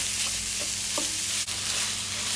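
Lamb mince frying in a pan with tomato puree and ground cinnamon, a steady close sizzle broken by a few soft scrapes of stirring and one sharp tap.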